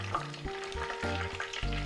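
Oil sizzles and crackles steadily as chicken schnitzel fries in a pan, close and continuous, with a faint background hum and no talking.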